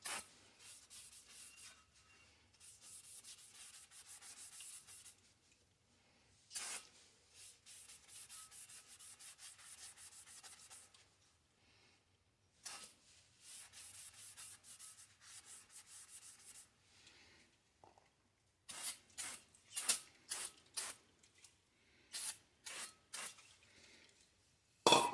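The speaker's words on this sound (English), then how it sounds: "And I'll wipe down with the Scotch-Brite." Bursts of rough, abrasive rubbing and scrubbing as a Scotch-Brite pad wipes a brake rotor on a 1991 Chevy S10, close up, in irregular strokes with short pauses, ending in a series of quick rapid swipes.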